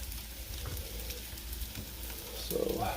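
Bacon slices frying in a pan, a steady crackling sizzle that runs the whole time, close by, with light clatter from turning the strips and a brief tonal scrape near the end.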